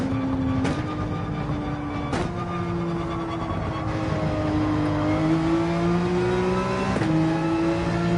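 A Porsche 911 race car engine drones in Gran Turismo 7, loud and close, holding a steady high rev with brief dips at gear shifts and a sustained engine tone throughout.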